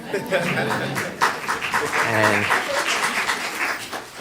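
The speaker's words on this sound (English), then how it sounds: "Yes, you can clap for that." At a city council meeting, the audience gives scattered applause under an ongoing speaking voice, with the clapping steady and moderately loud throughout.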